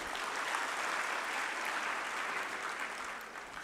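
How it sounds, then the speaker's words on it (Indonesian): A talk show audience applauding for Prabowo in a steady wash of many hands clapping, even and sustained throughout before easing slightly at the end. "Tepuk tangan dong buat Pak Prabowo"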